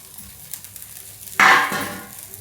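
A lid is lifted off a pan of roasting food, setting off a sudden burst of sizzling that swells up close and then settles back to a softer sizzle.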